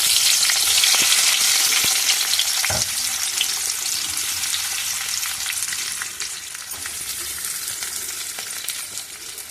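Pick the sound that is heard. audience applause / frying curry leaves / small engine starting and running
frying curry leaves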